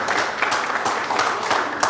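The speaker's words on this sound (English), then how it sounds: "And a big round of applause once again." Applause at a Toastmasters club's 100th meeting, a brief burst of mixed clapping from a room of people, fairly close and continuous.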